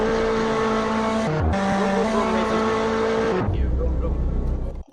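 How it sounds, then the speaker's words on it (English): Race car engines from an IndyLights racing video game on the Detroit Belle Isle circuit, a loud sustained engine drone that shifts pitch around gear changes, with a brief dip and a later change in tone before cutting off abruptly. "Start your engines, let's get this thing going."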